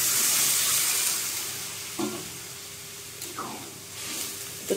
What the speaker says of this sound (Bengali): আমি এখন পরিমাণ মতন জল দিয়ে দেব।